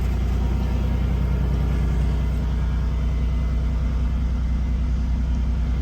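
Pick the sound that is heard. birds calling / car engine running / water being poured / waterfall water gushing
car engine running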